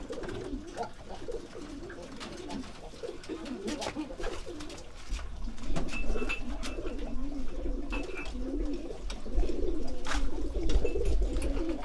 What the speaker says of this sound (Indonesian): Kita keluarkan dulu merpatinya.